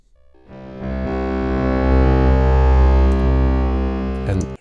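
Distorted sustained synth tone run through a reversed convolution reverb with a short, delay-like response, swelling in over a low drone, holding dense and loud, then cutting off with a brief stutter at the end.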